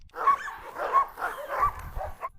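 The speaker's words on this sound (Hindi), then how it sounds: "पिंजरे में बंद एक कुत्ते को बाहर निकालते ही सब एक साथ भौंकना शुरू कर देते हैं" Several dogs bark together in a loud, overlapping burst right after one is released from a cage, with repeated barks and yips at close range and no talk over them; a Cane Corso and a Karabash are among the dogs.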